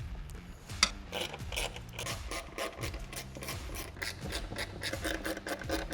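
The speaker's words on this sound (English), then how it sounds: "So just be careful, tighten them down, hand tight" Titanium dress-up bolts tightened by hand in a C8 Corvette engine bay, a steady run of small metallic clicks and ratcheting scrapes close by, with one sharper tick early on.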